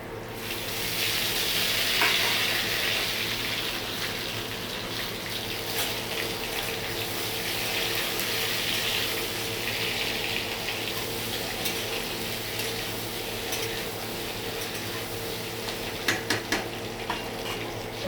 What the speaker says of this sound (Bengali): এখন আমি আলুগুলোকে ছেড়ে দেব। প্রথমে আলুগুলোকে ভেজে নেব।